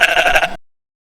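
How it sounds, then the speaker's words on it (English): One short, wavering sheep bleat comes through loud and close for about half a second, then stops dead into silence. "Sheep."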